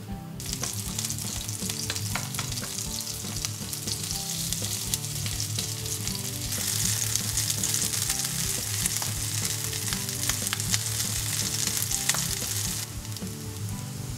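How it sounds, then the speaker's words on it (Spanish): Red bean veggie burgers frying in hot oil in a pan, a dense continuous sizzle with crackling pops throughout, loud and close. "en un poco de aceite caliente en la sartén las pasamos vuelta y vuelta hasta que estén doraditas por fuera"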